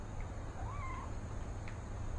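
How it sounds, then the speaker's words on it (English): A cat meowing in the video game What Remains of Edith Finch, one soft, drawn-out meow with a faint second cry, sitting low beneath a constant loud hiss of background noise. "I heard a cat."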